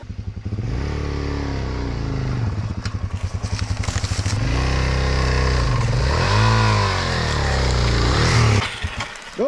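Off-road motorcycle powering through woods, a loud continuous engine drone that rises and falls with throttle, bumps and clatter over rough ground, and a steady revving surge near the end.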